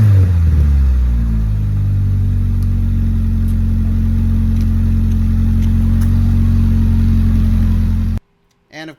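A Honda Prelude fitted with a newly installed exhaust resonator starts and idles with a loud, steady low rumble up close, then cuts off abruptly near the end.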